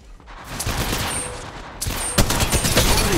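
Apex Legends Mobile gunfire: a sustained volley of rapid shots sounds close and loud, growing denser with sharp cracks in the second half.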